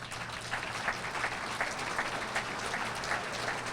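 Steady applause from diners at a veterans memorial committee support-our-troops dinner, a continuous even wash of clapping heard from a little distance, with a low hum beneath.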